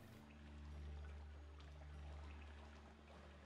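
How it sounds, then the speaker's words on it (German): Water splashing in a Planet Zoo game zoo, a soft continuous trickling and pouring with gentle swells, faint and steady without voices. "Der Wasser plätschern."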